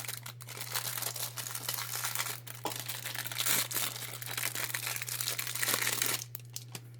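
Plastic packaging bag holding a handmade resin mold set crinkles and crackles continuously up close, with dense bursts of rustling throughout and a steady low hum underneath.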